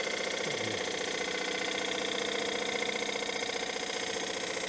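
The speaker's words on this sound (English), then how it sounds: "You hear it hitting into that end grain." A woodturning lathe spins a platter blank while the tool chatters against its end grain, giving a steady, rapid knocking hum over the continuous motor drone, fairly faint and without talk.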